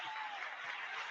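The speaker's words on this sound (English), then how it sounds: "Give him a round of applause." A brief burst of steady applause, a crowd clapping continuously at moderate volume with no pauses.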